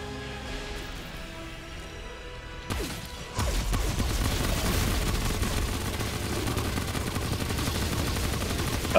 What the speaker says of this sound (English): got a shiny new gun? It must be the Root Killer gun.